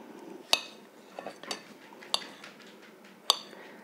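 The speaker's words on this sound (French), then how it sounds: "je vais couper mes pommes de terre en tranches et je vais les mettre sur ma pâte brisée" A knife slicing potatoes into rounds for a raclette tart: a few sharp, close taps of the blade striking the board land at uneven intervals, with soft scraping and handling noises in between.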